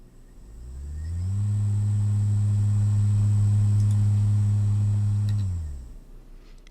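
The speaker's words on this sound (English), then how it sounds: "you can hear it from the motor, a sort of hum or a screech" Electric motor driven with trapezoidal commutation, giving a loud steady low hum with faint high whine that starts up, holds for several seconds, then winds down.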